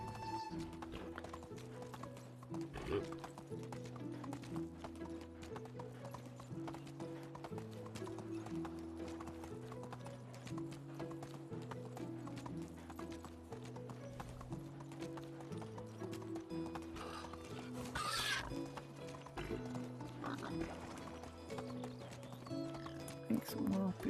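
In the video game Medieval Dynasty, a ridden horse's hooves beat a continuous clip-clop for a long stretch, with an occasional neigh, all layered over looping background music.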